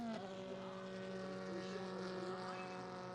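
A 1953 Denzel Roadster race car passes with a steady engine drone and strong tonal whine, the pitch dipping slightly early on as it goes by at moderate distance.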